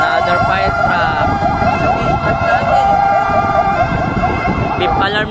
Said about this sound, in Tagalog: Another fire truck.